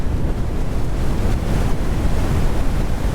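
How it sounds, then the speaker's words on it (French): Strong tornado wind gusts in a video game roar as a steady, loud, broadband rush that fills the whole stretch without pause, with no talk over it. "Je mange des rafales à 200, c'est pas très RP s'il vous plaît."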